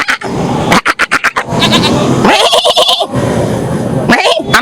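A goat bleats repeatedly at a livestock market ahead of Qurbani. The bleats are loud and close, in short bursts mixed with people talking.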